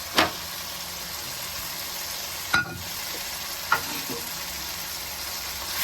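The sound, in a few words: fried taro (arvi) being stirred and roasted in masala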